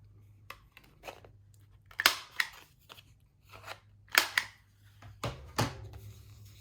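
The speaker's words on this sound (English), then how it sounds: "when I make a tag, I like to round the corners. So I'm going to use my corner rounder to do that" A corner rounder punch trims the corners of a paper tag, a series of sharp crunching clicks spaced a second or so apart, close and clear in a quiet room.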